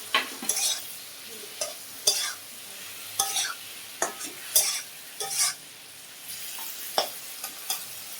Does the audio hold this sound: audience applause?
no